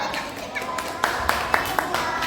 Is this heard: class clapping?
yes